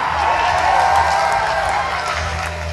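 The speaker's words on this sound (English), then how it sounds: "Why would you cheer that?" Live comedy show audience at Bonnaroo, a dense wash of cheering and applause from a large crowd, loud and sustained with scattered whoops, voices blending within it.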